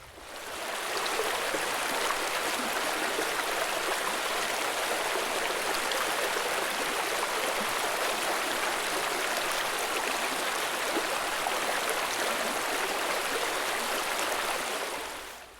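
The Macalister River rushes over a rocky crossing on a high-plains four-wheel-drive track, a dense, even roar of flowing water that fades in, holds steady for about fifteen seconds and fades out, with no voices.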